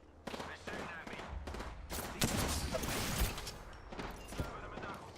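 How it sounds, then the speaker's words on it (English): Gunfire rattles through a video game battle in quick, repeated bursts of automatic fire with sharp single shots among them, moderately loud and dense over busy game sounds. "They're shooting at me."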